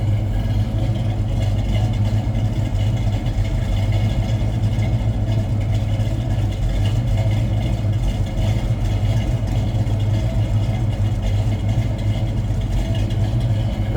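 A 1974 Pontiac Trans Am V8 idles steadily, a deep, continuous low rumble held close and loud for the whole stretch with no clear revs or voices.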